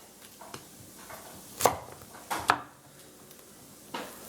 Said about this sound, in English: I'm going to do the onion a little bit on the chunky side.